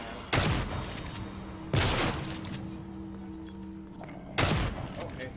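Three loud, sharp hand cannon shots in a video game fire at irregular intervals, each with a ringing tail, over a low steady hum.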